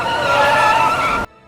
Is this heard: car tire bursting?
yes